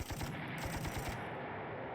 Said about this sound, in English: This was a wasted artillery shot.